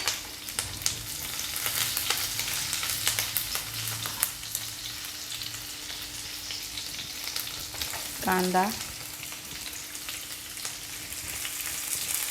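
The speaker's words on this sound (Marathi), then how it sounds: "लसूण आणि मिरची छान परतून घेऊया।" Garlic and green chilli sautéing in hot oil in a pan, a continuous close sizzle with occasional stirring scrapes and a brief clatter near the end, no voices.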